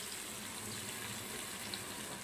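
Raw prawns frying in a pan with ginger garlic paste and masala give a steady, even sizzling hiss, soft and continuous with no talking.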